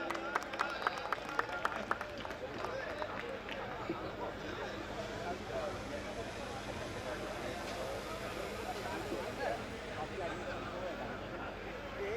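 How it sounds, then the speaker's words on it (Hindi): Faint crowd applause with scattered claps at a Hindi comedy poetry gathering in Rajnandgaon fades into a murmuring audience and distant voices. "जोरदार तालियां बजाएं"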